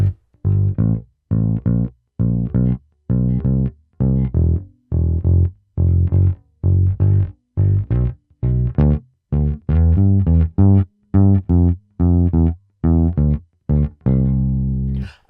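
Blues walking bass line, four bars of steady, evenly spaced plucked notes stepping through the changes, with the last note left ringing out, played alone.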